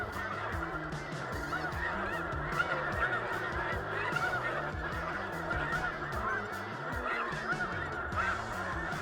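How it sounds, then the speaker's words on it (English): A large flock of migrating geese in the Saskatchewan skies honks continuously, a dense chorus of overlapping calls at moderate distance with no talk. "We get 1 million birds coming through here."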